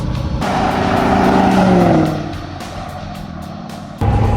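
A box truck drives past on a street in a flyby, its engine building to a loud, rising drone near the midpoint and then fading as it moves off, with a fresh burst of noise at the very end.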